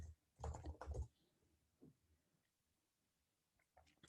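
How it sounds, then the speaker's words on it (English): Quick burst of computer keyboard typing while entering a Rails database command, clustered keystrokes near the start followed by a few faint clicks, quiet and close. "I'll type Rails DB migrate."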